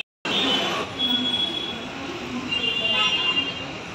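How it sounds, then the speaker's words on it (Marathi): At a railway station platform, a train arrives with a continuous rumbling roar, faint high squeals and a brief horn-like tone, while people talk nearby. "आता सकाळी ट्रेन आली का बघा. आली."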